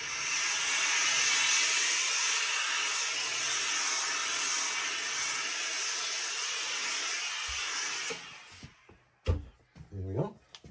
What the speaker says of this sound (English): So here's our trusty steam iron.